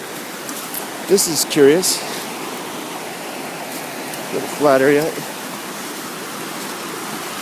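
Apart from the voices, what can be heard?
forest stream water flowing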